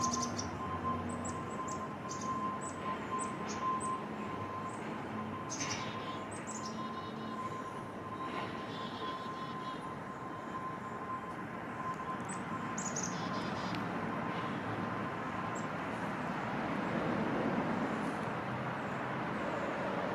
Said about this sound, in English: I heard a black-capped chickadee outside my window.